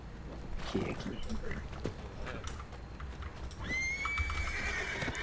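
In the video game Red Dead, a horse neighs loudly and hooves clip-clop close by, with a voice talking over the game sounds.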